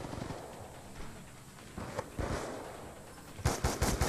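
Three-round burst rifle fire in Black Ops 2: short clusters of sharp shots, a few scattered early and a rapid tight group near the end, over quieter game ambience.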